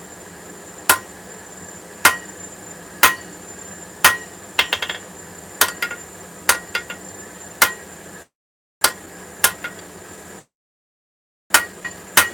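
Steel struck by a hammer on an anvil while forging a wizard figure, sharp ringing blows at a steady roughly one-per-second pace, with a quick flurry of lighter taps in the middle and brief dropouts near the end.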